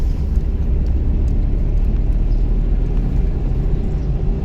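A car engine revs during a driving lesson as a steady loud low rumble that holds evenly throughout, heard from inside the vehicle with no talk.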